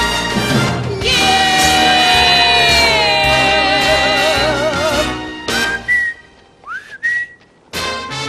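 A person whistles a long, wavering melody, clear and close, with sustained notes bending in pitch over soft music, then breaks into a few short, sliding whistle phrases separated by pauses.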